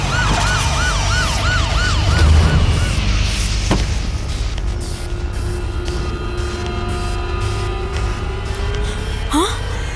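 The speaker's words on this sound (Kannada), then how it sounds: "ನಮ್ಮನೆ ಮುಂದೆ ಆಂಬ್ಯುಲೆನ್ಸ್ ಬಂದ್ ನಿಂತಿದ್ಯಲ್ಲ" A wailing ambulance siren rises and falls loudly for a few seconds, then gives way to a steady rumble of passing traffic and engine noise.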